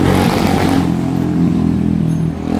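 A newly bought motorcycle's engine runs close by, a steady rough rumble that eases slightly at the very end.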